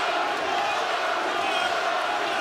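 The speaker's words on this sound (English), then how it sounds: "Crowd trying to lift him." A bare-knuckle boxing crowd in an arena in Cardiff, Wales roars in a dense, continuous wash of cheering that stays loud throughout.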